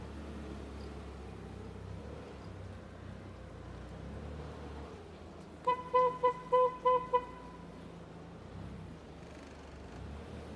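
A Hyster S60FT 6,000 lb propane forklift drives with a steady low engine rumble throughout, and about five short tonal beeps sound in quick succession partway through.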